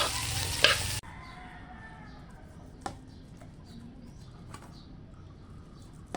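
Fried rice sizzles steadily in a pan, beginning with a loud burst of frying and settling into a constant close hiss, broken by a few sharp clicks of stirring.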